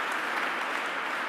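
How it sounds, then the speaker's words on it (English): At a public event in Buffalo, an audience applauds Sydney Brown in a brief, even burst of many clapping hands, loud and close with no talk over it. "Let's have another round of applause for Sydney Brown and Rock."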